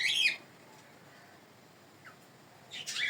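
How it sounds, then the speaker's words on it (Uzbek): A bird near a sheep pen gives two short bursts of high chirping, one at the start and one at the end, with near silence between them. "qush."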